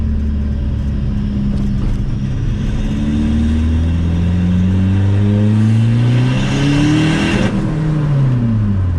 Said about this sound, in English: as soon as I go into second, it goes into full boost and the sound changes completely